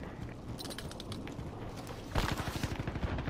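Rapid gunfire in a first-person shooter video game: faint distant shots at first, then a loud burst of close automatic fire rattling in quick succession near the end.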